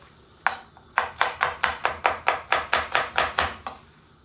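A knife chops a bell pepper on a cutting board in about a dozen crisp, evenly spaced strikes. The chopping is close and loud, with no speech over it.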